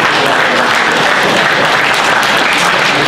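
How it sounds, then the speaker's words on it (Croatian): A hall full of people at a guslar society's fortieth anniversary celebration in Pale breaks into loud, dense, continuous applause that holds steady throughout. "važno je da ga vi nagradite aplauzom"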